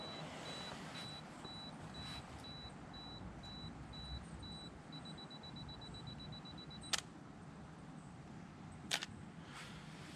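A Canon 20D's self-timer beeps in a steady run of short, evenly spaced high pulses that merge into one continuous tone, followed by two sharp shutter clicks. It is set against a constant outdoor background hiss during a mushroom macro shoot.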